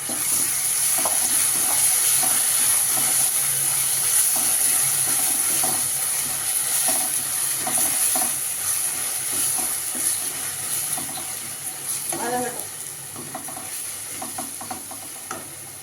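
Mushrooms with ginger and garlic sautéing in a pan for a mushroom manchurian, a steady sizzle and hiss with occasional scraping stirs, fairly close and continuous, easing slightly toward the end, with no talking.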